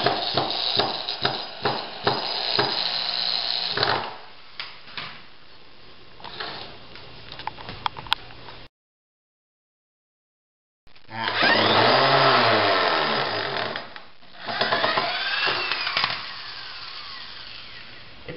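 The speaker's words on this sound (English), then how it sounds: "I recommend you just keep the drill going slow and apply steady pressure." A power drill drives long screws into 2x4 lumber for concrete formwork, whirring in bursts with clicks and shifting pitch, then a silent gap before a louder sustained run that dips and surges, close to the listener with no speech.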